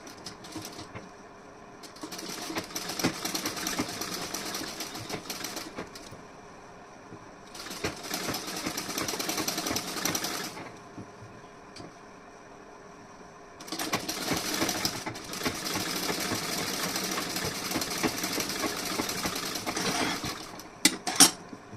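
A sewing machine stitches a design neckline in three long bursts of fast, even rattling, with quiet pauses between runs and a couple of sharp clicks at the end.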